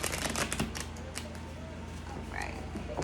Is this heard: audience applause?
no